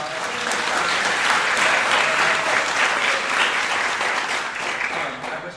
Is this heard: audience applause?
yes